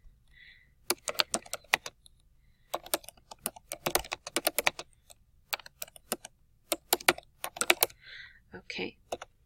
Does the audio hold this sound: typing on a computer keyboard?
yes